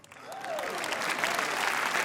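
An audience at a live stage show breaks into steady, full applause that swells and holds for a couple of seconds, with a brief voice at the very start.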